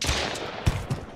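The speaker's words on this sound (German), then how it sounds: "Boah, der schießt" A bandit firing at the player in Mist Survival: a short burst of gunshots, two or three sharp cracks in quick succession over steady background noise.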